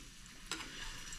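Egg frying in a pan at breakfast, a steady soft sizzle throughout with one brief sharp scrape or crackle near the middle.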